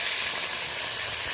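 Pieces of fish sizzle and spit steadily in a hot frying pan as they are turned over, a close, continuous bright hiss with no one talking.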